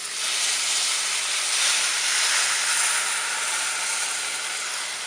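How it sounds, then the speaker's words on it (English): Water poured into a hot pan of toasted rice bursts into a loud, steady hiss of sizzling and steam that holds for several seconds, close up. "And now that my rice is toasted, I'm going to add my water."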